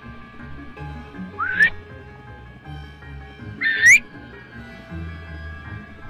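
Two rising whistles in the video game Zelda: Breath of the Wild, short upward-sweeping tones about two seconds apart over quiet game background music.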